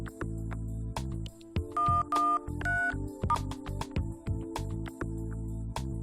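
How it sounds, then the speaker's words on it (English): An emergency number, 113, being dialled on a telephone: a run of short DTMF key tones in quick, uneven succession over a steady low hum, clear and close. "You can't wake her, so you call 113."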